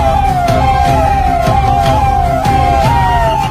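A loud, close ambulance siren on a road in Chennai wails in rapid repeating cycles, each rising and falling sweep lasting under half a second, with steady traffic rumble beneath.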